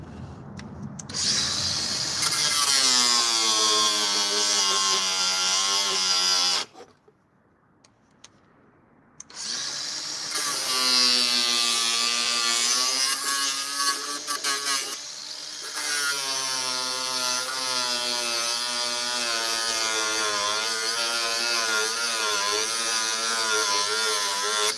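A power tool cuts off stripped seat bolts, a loud, harsh whirring grind that rises and bogs under load, pauses for a few seconds, then runs on in long sustained bursts.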